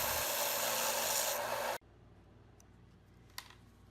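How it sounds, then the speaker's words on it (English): A strip sander shapes a small walnut wedge with a loud, steady abrasive rasp close by that stops abruptly partway through, leaving faint workshop sounds and a sharp click. "I'm just going to shape it with my strip sander."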